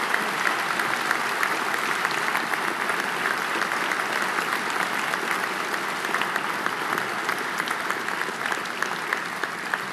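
Sustained applause from a large audience at an NYPD medal ceremony, steady and even throughout with no voices standing out.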